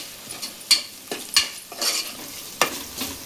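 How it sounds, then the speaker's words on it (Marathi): Ginger garlic paste being sautéed in oil over fried onion, a quiet sizzle broken by several scraping stirs of a spoon against the pan at irregular intervals. "आलं लसूणची पेस्ट मी परतवून घेतली"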